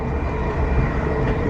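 Water train going by near Wembley Yard in North London, a short burst of dense, loud rumbling rail noise heard up close from a fast-moving train.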